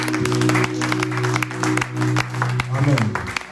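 A church congregation applauds, a dense steady patter of clapping mixed with crowd noise, while a voice speaks and a sustained organ-like tone hums beneath.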